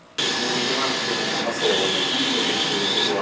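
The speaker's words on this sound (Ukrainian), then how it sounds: "На Чернівецькому підприємстві шумлять швейні машинки." Sewing machines run in a Ukrainian flag factory in Chernivtsi, giving a loud, steady, continuous whirring drone that starts abruptly and holds without pause.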